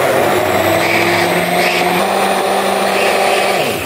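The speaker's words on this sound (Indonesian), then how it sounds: "Ini kan blender stres." A high-powered kitchen blender runs continuously at full speed, blending ingredients with a loud, steady whirring motor roar and slight pitch shifts.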